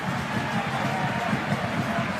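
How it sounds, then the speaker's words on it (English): Crowd in a football stadium at an A-League match between Perth Glory and Auckland FC, applauding a substituted player with a steady, continuous roar of clapping and cheering that holds at even loudness throughout. "Warm round of applause for Nico Pennington."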